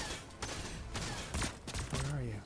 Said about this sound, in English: That guy's pounding me with laser fire.